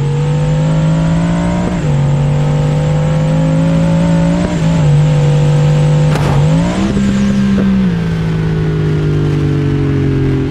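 A Bugatti engine in the BeamNG Drive driving game holds a steady, loud drone, with pitch dips and rises as it shifts and accelerates, briefly punctuated by a sharp transient near the middle.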